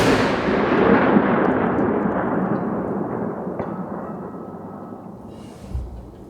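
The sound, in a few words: muzzle loader rifle shot at 1000 yards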